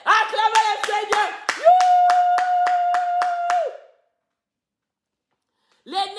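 A church congregation claps in a fast, rhythmic burst of about a dozen sharp claps over a held, ringing vocal tone, then everything drops to silence before voices return at the end.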